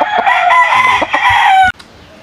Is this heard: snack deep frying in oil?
no